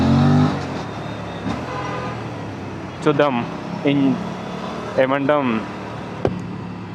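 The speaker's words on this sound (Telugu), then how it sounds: "ఎంత బెటర్ క్యాప్చర్ చేస్తుంది ఇంజన్ సౌండ్ అని చెప్పి." An Aprilia RS 457 motorcycle engine drones steadily during a city ride, a constant mid-level hum running beneath someone talking.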